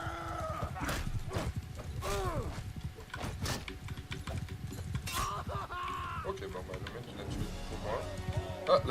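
A horse's hooves clop steadily during a battle in the video game Mount and Blade II Bannerlord, with a brief whinny, other game sounds, and someone talking over it.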